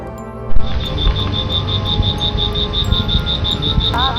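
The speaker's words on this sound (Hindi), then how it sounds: "खेतों में कुछ मेंढक भी बोल रहे थे" Frogs calling from waterlogged fields at night, a steady pulsing high-pitched trill repeating evenly throughout, close and clear over a low rumbling background.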